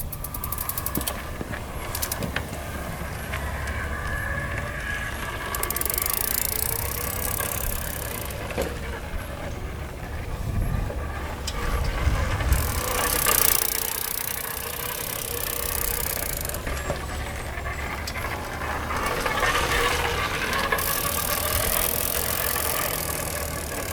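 A small moped engine drones steadily as it is ridden outdoors, with a mid-pitched buzz that rises and falls over a rattling chassis and passing wind noise throughout.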